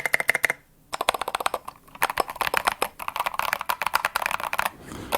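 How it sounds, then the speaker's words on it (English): Rapid, close typing on a wooden computer keyboard, with dense clattering keystrokes in bursts and a couple of brief pauses, heard alone. "Can you give us a little keyboard action? A little ASMR?"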